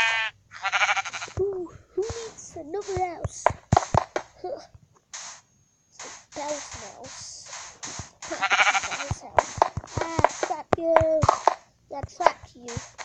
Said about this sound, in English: There's a sheep in the sea.